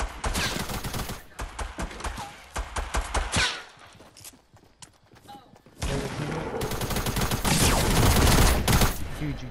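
Heavy shotgun blasts in a shooter game, rapid loud bursts of gunfire in two clusters separated by a brief lull, with players talking over the action.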